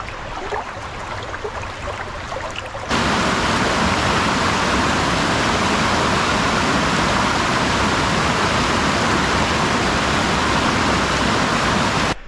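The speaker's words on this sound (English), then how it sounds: "There's some waterfalls." Steady, dense roar of mountain waterfalls in Vesterålen, Norway, quieter and duller for the first three seconds, then abruptly louder and brighter as a broad, unbroken rush that fills the rest of the scene.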